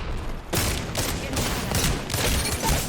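Wingman pistol shots ring out in Apex Legends, several loud, sharp bursts in quick succession over a dense, continuous roar of in-game noise.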